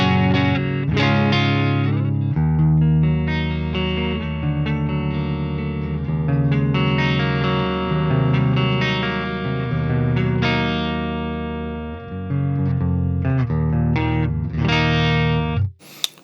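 Electric guitar played through a Bogren Digital MLC Subzero 100 amp simulation with the gain fully maxed, giving a clear, lightly breaking-up tone rather than heavy crunch; continuous strummed chords and riffs ring out for about sixteen seconds, then stop abruptly.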